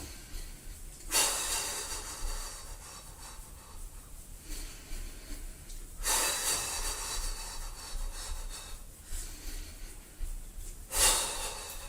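Breathing during a physical relaxation exercise, three long breathy inhales or exhales spaced roughly five seconds apart, close and fairly loud against a quiet room.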